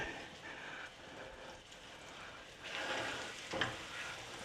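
Chicken for piccata frying in a pan over medium-high heat, a steady low sizzle throughout that swells louder near the end as the meat settles in, with no talk over it.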